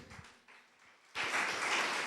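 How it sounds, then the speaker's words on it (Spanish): A church congregation breaks into clapping after a quiet start with a few faint sounds, the applause rising suddenly and holding steady in the room until the end. "Denle ofrenda de palmas al que vive."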